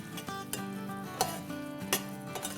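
Half a cup of semolina roasting in half a cup of oil in a pot over a slow flame, giving a soft steady sizzle with light scraping and stirring clicks, faint and close.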